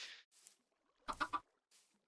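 A chicken in the Minecraft video game clucks in a quick burst of three short, quiet clucks, with faint scattered game noises before and after and no talk.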